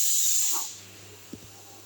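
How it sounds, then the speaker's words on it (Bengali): Pressure cooker in a home kitchen releasing steam as a loud, steady hiss that fades after about half a second, followed by a faint click. "দেখো কুকারে সিটি পড়ছে"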